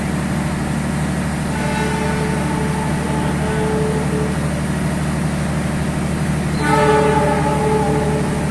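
The Argo Wilis passenger train from Bandung to Surabaya Gubeng passes close by with a loud, steady rumble of wheels on rails, and a horn sounds briefly near the end.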